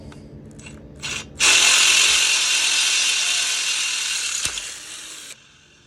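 A drill enlarges pre-drilled holes for a light bar mount, starting with a couple of short bursts and then running in one steady, loud whir for about four seconds before stopping.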